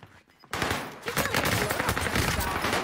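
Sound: gunshots in a video game shooter

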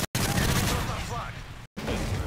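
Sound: gunfire in a competitive shooter video game

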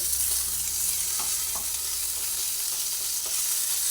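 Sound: ginger frying in a pan

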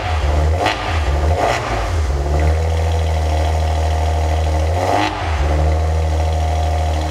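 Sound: Maserati Levante Ferrari-built twin-turbo V6 engine revving

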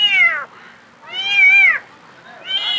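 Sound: cat meowing

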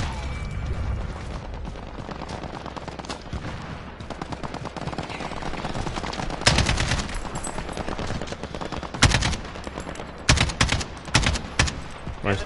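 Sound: gunfire from a gun in a video game

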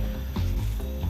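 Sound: pepper grinder seasoning food

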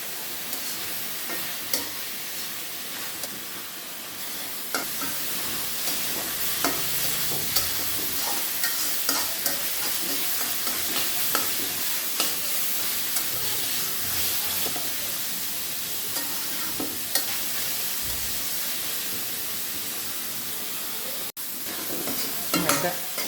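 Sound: spinach stir-frying in a pan

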